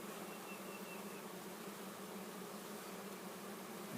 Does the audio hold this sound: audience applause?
no